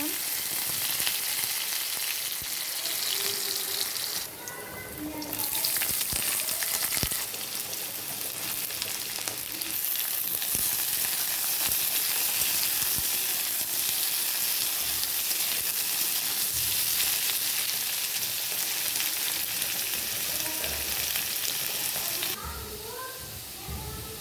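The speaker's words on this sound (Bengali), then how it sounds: "এবার কেটে রাখা আলুগুলো কড়াইতে দিয়ে দেবো" Cut potatoes fry in hot oil in a wok, giving a steady, dense sizzle that runs close and loud throughout, with brief stirring scrapes now and then.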